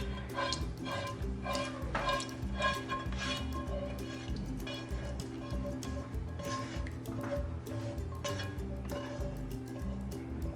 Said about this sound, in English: Let me just get my spatula here and get all that sauce out.